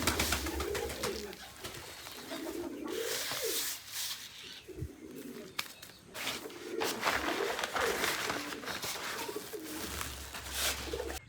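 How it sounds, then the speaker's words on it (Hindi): Domestic pigeons cooing at dusk around their coop, repeated soft rhythmic coos close by over a steady background of other birds and ambient noise, with no talking. "यहाँ पे अब मुझे इंतज़ार करना पड़ेगा अपने इन कबूतरों के अंदर जाने का"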